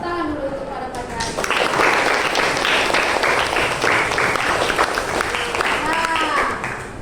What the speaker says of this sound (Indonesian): Tepuk tangan dulu untuk pada pagi hari.